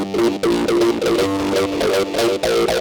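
A bass synth preset runs through the Devastor distortion plugin, giving a gritty, heavily saturated tone in rhythmic pulsing notes, loud and continuous with no voice over it.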